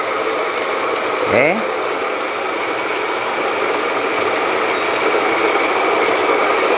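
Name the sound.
Almaz electric coffee grinder grinding coffee beans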